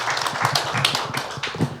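Audience at a launch ceremony for a Gwangju Student Independence Movement centennial committee claps in a ragged, uneven burst, individual hand claps standing out close and sharp.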